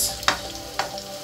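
Onions, garlic and yam fry in a pan, a continuous close sizzle punctuated by two sharp stirring scrapes, with no talking.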